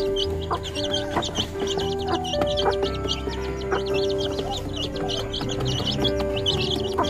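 A native laying hen clucks steadily at close range on a rural farm before dawn, with other chickens and small birds chirping around it in a busy, continuous backdrop.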